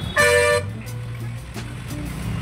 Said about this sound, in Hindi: बाप रे गाइस ये देखो इतना ट्रैफिक है